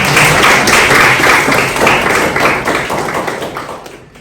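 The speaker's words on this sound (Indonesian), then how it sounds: "beri tepuk tangan untuk teman kalian" A classroom of students claps for a classmate, a dense burst of many hands applauding loudly at first, then gradually thinning and fading out.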